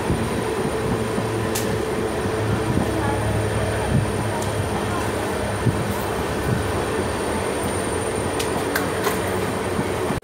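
The New Jalpaiguri–Howrah Shatabdi Superfast Express, train 12042, rolls along steadily, a continuous rumbling roar with faint rhythmic clatter and occasional metallic clicks, heard from inside the carriage.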